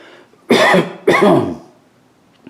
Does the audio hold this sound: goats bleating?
no